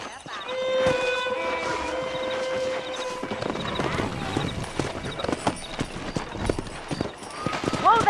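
Rapid, rhythmic hoofbeats of galloping horses in Red Dead Redemption run steadily under a voice, with a sustained tone fading early on.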